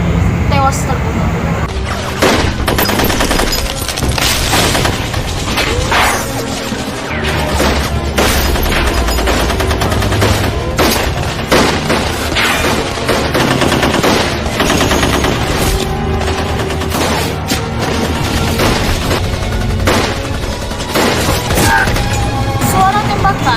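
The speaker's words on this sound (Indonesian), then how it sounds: "Suara tembakan dan juga ledakan granat terdengar di sana sini." Constant rapid gunfire with bursts of automatic fire and heavy booming grenade explosions, dense and loud throughout, with talk mixed in.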